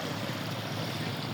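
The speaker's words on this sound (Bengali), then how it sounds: "সমুদ্রের ঢেউ" Sea waves rolling onto the beach at Kuakata in Bangladesh, a steady broad wash of surf and wind noise, continuous and fairly distant, with no talking.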